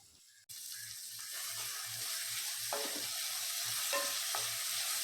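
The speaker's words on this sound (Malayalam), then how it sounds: "ഒടുവിലായിട്ട് ഇതിലേക്ക് അര ടീസ്പൂൺ ഉപ്പും കൂടി ചേർത്ത് വഴറ്റാം" Onions with green chilli, ginger-garlic paste and salt sizzle and fry in a pan, a steady hiss broken by scraping stirring strokes, close and clear with no talking.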